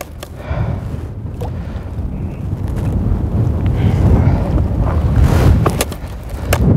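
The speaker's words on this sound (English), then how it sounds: "even though it's a little windy out today" Wind gusting across frozen Lake Winnebago at an ice-fishing spot, a loud blustery roar that buffets the microphone and swells and ebbs throughout, with no talking.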